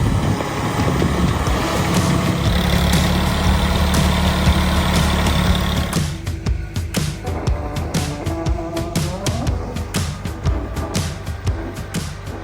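A tractor clears snow nearby, its engine running loud and steady throughout, the heavy drone overlaid in the second half by a series of sharp knocks and crunches.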